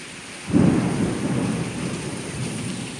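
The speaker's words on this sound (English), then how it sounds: "This is thunder." A sudden close thunderclap bursts out over steady heavy rain in a Florida afternoon rainstorm, then rumbles on loudly for a few seconds as the downpour continues.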